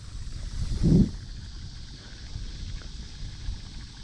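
Wind blowing outdoors beside a pond, a low rumbling buffet that swells in one stronger gust early on and then settles into a quieter steady wash of wind noise.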